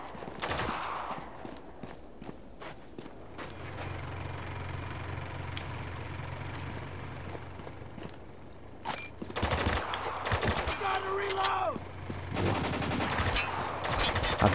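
Bursts of video-game gunfire from a weapon in Spec Ops: The Line, with sharp repeated shots clustered in volleys over a low rumbling background, loud and close, plus scattered in-game sounds.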